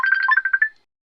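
A mobile phone ringtone from an incoming call plays alone, a short melodic burst of repeated electronic tones lasting under a second before cutting off into silence.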